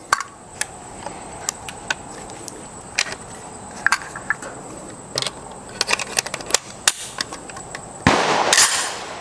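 Sharp rifle shots from a 1994 Ruger Mini 30, fired in an irregular string of about a dozen cracks, some close together. A burst of broadband noise comes near the end. Nobody speaks.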